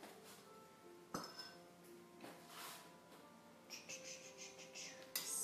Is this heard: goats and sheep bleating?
no